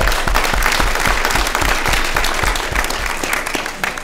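An audience at a state government event on affordable housing and neighborhood development breaks into loud, sustained applause, a dense wash of clapping filling the room at close range without letup.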